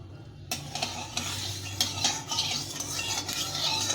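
Mustard oil goes into a hot wok for a fish curry, with a sudden start of crackling and sizzling, joined by metallic scraping and clinks of a spatula against the pan, fairly loud and close with no talking.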